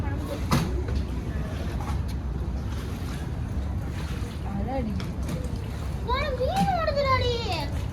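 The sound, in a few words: water splashing at the beach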